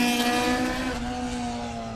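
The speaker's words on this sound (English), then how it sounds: "if the driver will give it a rev for us, then it sounds sweet" A YB Cosworth naturally aspirated 16-valve rally car engine revs loud and close at a town stage rally, a steady rasping harmonic drone with induction noise, sustained throughout without talk.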